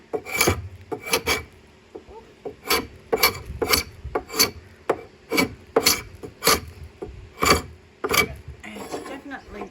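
Old finish is scraped off a wooden meatsafe by hand, about a dozen sharp rasping strokes in an uneven rhythm, loud and close, with brief gaps between pulls.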